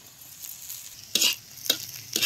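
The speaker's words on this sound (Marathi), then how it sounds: "आलं लसूण बी तेलात असं जरा चांगलं भाजून घ्यायचं." Crushed ginger and garlic frying in oil with onion, a soft close sizzle broken by three quick bursts of stirring scrape against the pan at a steady pace.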